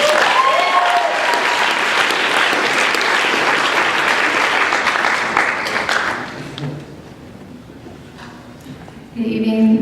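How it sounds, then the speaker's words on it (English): An awards ceremony audience breaks into loud, dense applause that carries for several seconds, then fades out as a few scattered claps trail off and a voice returns at the end. "So if I can just one more round of applause for QCOM as well as Peterson Pham"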